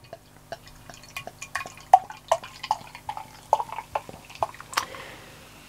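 Dynamite Valley Brian Amber Bitter beer is poured into a glass, close and fairly quiet, with irregular splashes, drips and gurgles of liquid and no voices.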